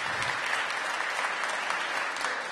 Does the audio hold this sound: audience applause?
yes